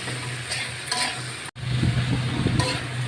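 Vegetables seasoned with salt and turmeric stir-fry in a pan, giving a steady close sizzle with scraping stirs throughout and one brief cut-out midway; no one speaks.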